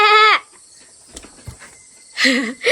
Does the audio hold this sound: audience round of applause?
no